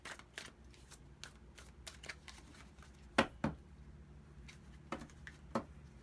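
Quiet, quick riffles and soft slaps of tarot cards being shuffled, with a few sharper taps as the deck is squared.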